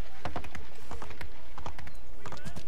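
Hooves of a horse in the video game Assassin's Creed 3 clip-clop in a quick, uneven run of sharp knocks over a steady background wash.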